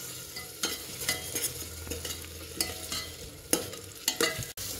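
Tomato paste and masala spices fry in a pan for a rustic Bihari-style curry, with a soft continuous sizzle and repeated scraping stirs, no voices.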